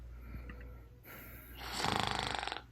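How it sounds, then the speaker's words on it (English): A woman snoring loudly, one long rasping snore swelling near the end after a quieter stretch of breathing noise. "why you snoring mad loud?"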